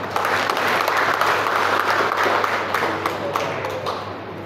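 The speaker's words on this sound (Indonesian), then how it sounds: "Tepuk tangan." A crowd at a formal gathering gives a steady round of applause, many hands clapping together close and fairly loud, with no voices over it.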